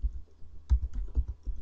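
Quiet keystrokes on a computer keyboard while entering a command into the Windows Run box, a handful of soft, uneven taps in close succession against a near-silent room.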